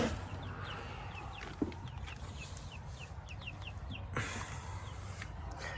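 Chickens cluck and chirp softly in short repeated calls over a steady background hiss, with an occasional louder knock.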